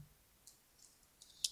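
A computer mouse clicks while working in Microsoft Word, with a few faint, sharp clicks spread irregularly and one slightly louder click near the end against near silence.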